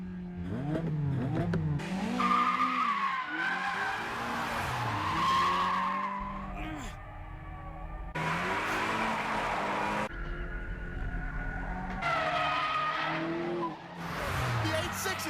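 Tires squeal loudly as the AE86 performs a braking drift in the Initial D anime, with engine noise, music and excited talk over and between the long screeching bursts.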